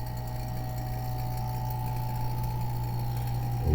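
A vacuum chamber bubbler machine drones with a steady, loud mechanical hum and tonal whine, running continuously without pause, swelling slightly at the very end.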